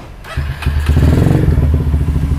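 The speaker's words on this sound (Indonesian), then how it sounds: "langsung kita nyalakan untuk mesinnya aja ya" Yamaha Megapro motorcycle engine starting up nearby: a brief starter crank, then the single-cylinder engine catching and settling into a loud, steady, throbbing idle.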